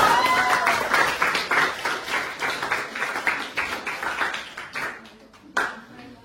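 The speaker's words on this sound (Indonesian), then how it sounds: "mari kita tepuk tangan untuk kita semuanya" A school class applauds together in a classroom, a dense burst of clapping that slowly thins out over several seconds, with some voices mixed in beneath it.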